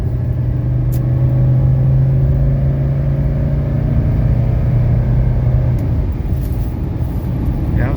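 A 1985 Mercedes 300D diesel pulls hard after a kickdown downshift on a test drive, a loud, steady engine drone with rising pitch, heard from inside the car before easing off near the end.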